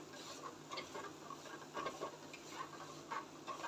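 A sweet mixture being stirred as it roasts in a pan over a slow flame: soft, faint scraping strokes repeating in an even rhythm, close by, with no one talking.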